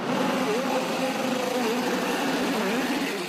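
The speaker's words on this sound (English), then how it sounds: "Drivers, start your engines!" Race car engines at an IndyCar event fire up and run together as a loud, continuous mechanical drone with a wavering pitch, close and steady throughout.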